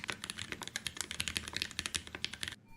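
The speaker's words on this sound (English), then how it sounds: "So a clacky keyboard," Clacky computer keyboard typing, a rapid, uneven run of sharp key clicks close up that stops abruptly at the end, with no talking.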